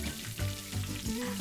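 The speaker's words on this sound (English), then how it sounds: "Fry the onion until nice and brown in color." Sliced onions fry in a pan with a continuous, close sizzle and crackle, plus a few soft stirring scrapes; no one speaks.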